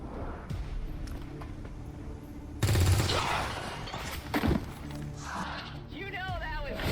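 Bursts of gunfire and rapid automatic shots crack through the Fallout: New Vegas game world, with one loud, dense volley in the middle and people talking over the shooting.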